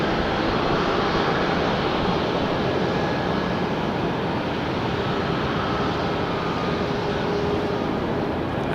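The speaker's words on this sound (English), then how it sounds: "Checking out that Allegiant Airbus." A steady, loud roar of an Allegiant Airbus jet at Nashville International Airport, a continuous broadband engine rumble that holds constant throughout with no talking.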